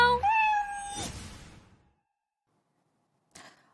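A cat gives one clear, rising meow at the start, which fades into silence before a brief soft rustle near the end.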